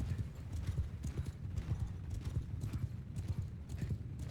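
Massed cavalry hooves thunder in the Mount and Blade video game, a dense continuous clip-clop of many galloping horses with occasional whinnies, steady and moderately distant.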